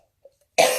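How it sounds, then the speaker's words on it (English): A single sharp, close cough bursts out after near silence, following a faint brief throat sound. "all of a sudden I'm going to cough"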